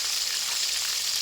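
Homemade fried chicken bubbles in oil over a medium flame, giving a constant, bright sizzling hiss that stays even throughout.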